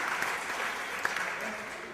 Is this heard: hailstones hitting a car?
no